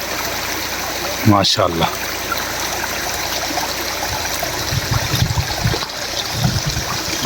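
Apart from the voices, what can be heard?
Malaach waterfall stream flowing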